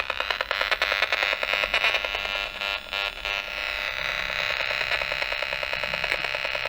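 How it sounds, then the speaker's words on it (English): Emissions from a plasma television mounted on a wall, picked up by a field meter in a front room as a harsh, distorted electronic buzz with rapid pulsing and fluttering, loud and continuous. "this is the sound of the television."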